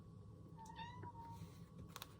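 A cat gives one soft, fairly brief meow over a steady low room hum. A faint click follows just after it, and no one is talking.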